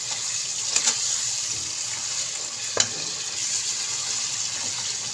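Chopped bottle gourd stir-fries in onion-tomato masala in a karahi, giving a steady hiss and sizzle with a few scraping stir clicks, heard alone and fairly close.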